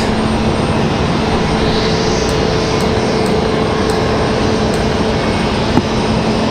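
A loud, continuous jet engine roar from an MD-11 airliner departing Raleigh Durham airport, close and steady throughout with no talking.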